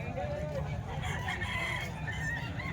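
A seven-month-old stag, a young rooster, crows at a Kalumpit poultry market, its call rising clearly over a steady background murmur of nearby voices and other fowl.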